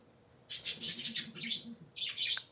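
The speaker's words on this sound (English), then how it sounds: "If it wasn't for these little birds" A small flock of three pet parakeets chirping at close range, with busy bursts of high, scratchy twittering and warbling that run for about a second, pause briefly, then return, over soft low room noise.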